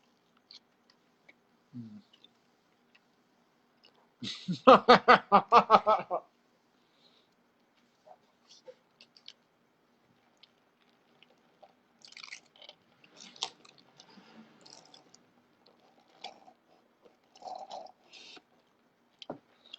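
Someone chews and bites into a beefy burger in close ASMR style, with one loud burst of crunchy wet chewing followed by long near-silence broken by faint mouth clicks and soft smacks.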